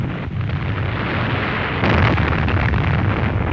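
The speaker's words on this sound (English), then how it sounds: "There goes the underwater blast." Underwater depth charge explosion dropped from a wartime naval vessel during an anti-submarine attack, heard as a dense, sustained roar that swells louder partway through, with no voices.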